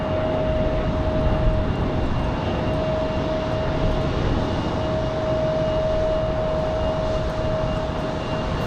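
Airplane departing Raleigh-Durham airport on a windy day, a steady loud engine roar with a sharp sustained whine held throughout, no talk.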